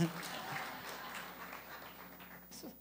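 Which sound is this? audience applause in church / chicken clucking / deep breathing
audience applause in church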